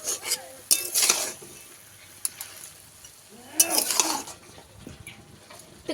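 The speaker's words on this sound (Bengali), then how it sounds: "এবারে তো ভালোভাবে দু মিনিট কষিয়ে নেবো" Spinach is stir-fried in a pan, with bursts of spatula scraping and clinking against the metal over a faint sizzle, close by and in uneven clusters, with no talking.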